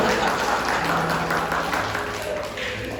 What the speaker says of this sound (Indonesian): Nah, tepuk tangan untuk kalian semua.